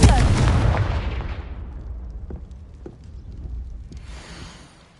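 A loud burst from a Confringo fire spell in the video game Hogwarts Legacy hits at the start and decays over a few seconds, then a few faint pops and a rising rumble follow.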